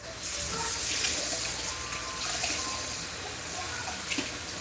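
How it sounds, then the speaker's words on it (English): Tap water runs steadily into a kitchen sink while food is rinsed under it before lemon juice is squeezed over, a broad close hiss lasting throughout with no talk. "So now we're going to rinse it off."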